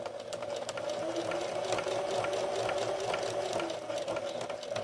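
Sewing machine backstitching fabric, a close, fast, steady mechanical rattle of stitching running continuously for several seconds without talk.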